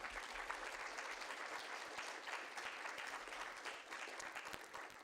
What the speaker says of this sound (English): Please, a round of applause for Dr. Hawk.